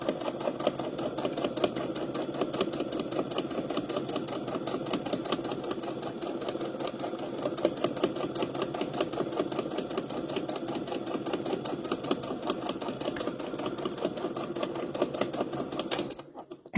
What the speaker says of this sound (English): I'm running my fabric right along the edge of my presser foot.